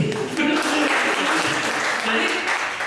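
Applause from a Dhamma class audience, a steady dense patter of clapping held for the whole stretch, with voices mixed in underneath.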